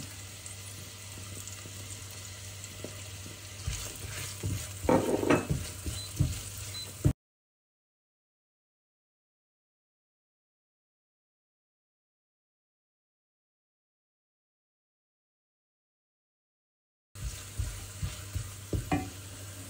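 Chopped onion and garlic tipped into a hot pan for beef mechado, a steady frying hiss with a burst of clatter and spitting as they go in, close by, cut off by a long stretch of silence before sizzling resumes.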